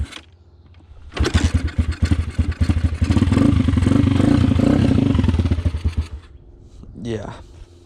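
A small engine that needs its carburetor cleaned starts and runs roughly, boggy and uneven with sputtering bursts, then cuts out; a voice talks briefly before and after.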